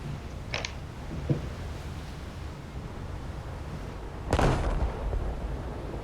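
Naval guns firing at a target in a warship video game: a brief sharp report early on, then a louder broadband blast about two-thirds through with a rumbling tail, over steady low sea-like background noise.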